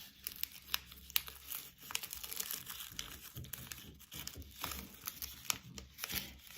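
Sheet of paper folded in half and creased, giving repeated close crinkling and crumpling rustles in irregular bursts, with no voices.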